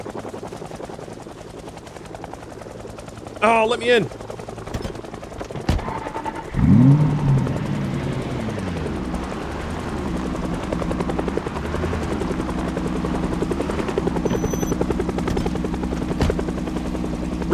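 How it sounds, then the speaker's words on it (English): A helicopter in the video game Project Zomboid flies overhead with a steady, rumbling rotor thrum that swells and holds loud throughout, while a person speaks briefly over it early on. "Why would there be a chopper?"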